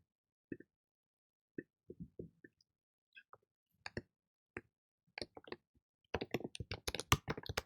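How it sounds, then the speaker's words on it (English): Typing a username and password on a keyboard: faint, sparse key taps at first, then a quick dense run of clicks near the end, close and quiet with no talk. "So I'm gonna type it right now."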